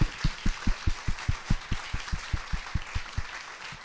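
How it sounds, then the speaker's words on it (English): An audience of startup weekend attendees applauds the organizers, a dense wash of clapping under a steady rhythmic pounding of rhythmic claps or stomps, continuing without speech. "I want actually us all to give them a big round of applause."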